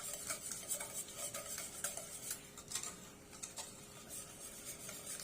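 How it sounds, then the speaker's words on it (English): Eggs beaten vigorously into melted chocolate, butter and sugar for classic brownie batter: quick rhythmic whisking and stirring clicks against a bowl, close and fairly faint, with no talking. "beating vigorously while adding the eggs"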